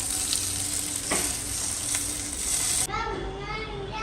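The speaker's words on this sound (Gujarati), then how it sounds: "હવે આપણે આની પર" A hot tempering of peanut oil, mustard seeds, cumin, chillies and curry leaves is poured over dhokla, giving a loud, hissing sizzle that drops to a softer bubbling crackle near the end.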